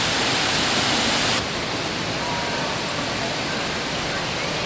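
The cascade waterfall inside the Opryland Hotel roars as a steady, loud, broadband rush of falling water, constant throughout with no clear voices.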